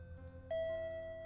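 A single sustained electronic doorbell tone sounds in the visual novel Shuffle!, ringing out clearly over soft background music for under a second.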